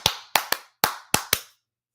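Six crisp, close hand claps in an irregular pattern, loud and dry, then a short silence after the last one.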